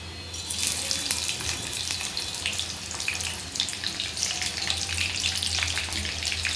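Chopped onion frying in hot oil for veg pulao, a dense, continuous, hissing sizzle with a crackly texture, steady and close throughout.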